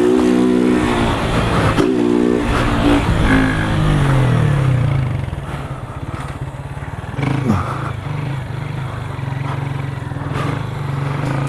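Motorcycle engine revving hard and loud throughout as the rider holds a wheelie, pitch rising and falling with throttle changes, close to the listener with no talk over it.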